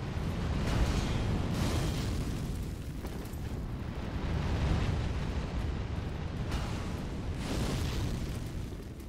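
A Dark Souls 3 enemy in Irithyll of the Boreal Valley spits fire with a loud, sustained roaring rush, swelling and ebbing in several surges over deep rumbling, with no voices.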